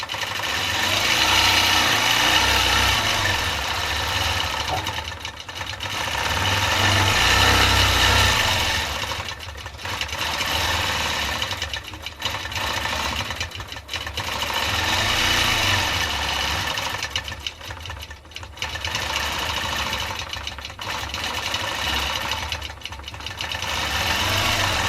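A Butler robotic quilting machine runs steadily while stitching out a pattern, producing a continuous mechanical hum and rapid needle chatter with brief pauses between runs.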